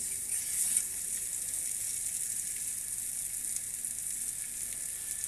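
Ginger garlic paste and whole spices such as cinnamon and cumin frying in oil for a spicy tripe curry, giving a steady, soft hiss of sizzling throughout with no talking.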